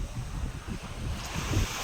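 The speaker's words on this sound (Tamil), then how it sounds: "அலையுடைய சவுண்டை கேட்டாலே மனசுக்கு இதமாக இருக்குது" Ocean waves breaking on a beach along the East Coast Road near Pondicherry: a continuous, rolling wash of surf with gusting wind buffeting the microphone and no voices.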